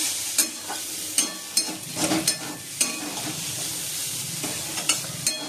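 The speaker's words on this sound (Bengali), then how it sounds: "আর এদিকে বটবটি আলু ভাজাও বসে দিয়েছি।" Potatoes fry in a pan with a constant hissing sizzle, broken by repeated sharp stirring and scraping knocks from a utensil, close and clear, with no one talking.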